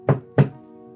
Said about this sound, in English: around midnight, there was a knock at the door.